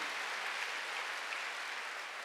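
A church congregation at a Sunday worship service claps together, a soft, continuous patter of many hands heard from a distance and sustained evenly throughout.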